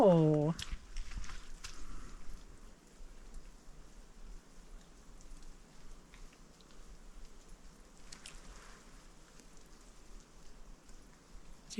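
Rainwater dripping and pattering down from trees in a forest near Little Twin Lakes, a faint, steady soft hiss with scattered drips, after a brief voice at the start.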